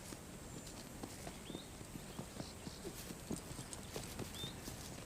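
A horse's hooves clip-clop at a steady walking rhythm, fairly faint and distant against a soft outdoor background with occasional bird chirps.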